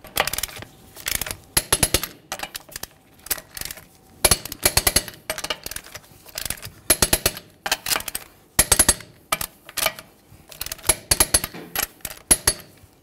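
Wheel lug nuts on a 2003-2011 Mercury Grand Marquis are tightened in a crisscross pattern to 100 foot-pounds, with loud bursts of rapid metallic clicking repeating in rhythmic clusters close by.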